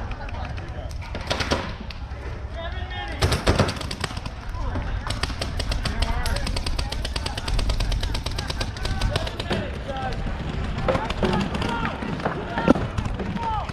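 In a video game battle, gunfire from the windows of a shipping container comes as rapid, scattered shots and bursts, some sharp and loud, others distant, over continuous background noise, while players talk.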